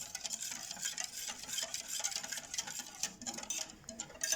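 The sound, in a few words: stirring dough mix with oil and salt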